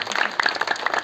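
Applause and clapping from an audience at a Balinese calonarang comedy performance, a dense, steady patter of many hands close by, with no talk over it.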